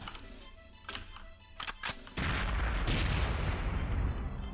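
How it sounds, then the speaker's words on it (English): A secondary explosion in the video game Perfect Dark: a few sharp gunfire-like thuds, then a loud sustained blast and rumbling roar that fills the rest of the moment. "Always weird to hear that secondary explosion from what you're blowing up"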